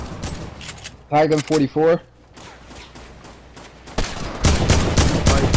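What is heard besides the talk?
gunfire in the Fortnite video game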